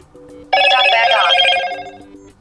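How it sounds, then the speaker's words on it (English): A Motorola Moto G Pure smartphone plays a loud, bright system tone, a layered ringing chime that swells, holds and fades after a faint lead-in, with no talking. "I swear Motorola has the most annoying and obnoxious sounds of all the phones."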